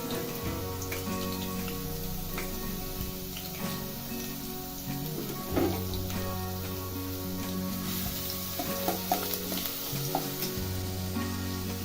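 Garlic fries in hot oil for a dry chickpea-leaf bhaji, giving a steady close crackle and hiss with a few light clicks and stirring scrapes.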